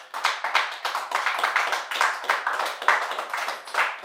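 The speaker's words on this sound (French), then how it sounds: "On acclame très fort." A church congregation claps together in a fast, steady rhythm, loud and close, with faint voices mixed in.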